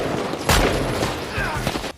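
Rapid bursts of gunfire in a film shootout between mafia gangs, loud and dense for most of the clip, with sharp overlapping shots and impacts that stop abruptly near the end.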